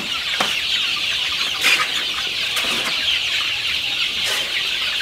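Dense, steady clucking and peeping from many young chicks, a constant high chatter with a few louder calls standing out.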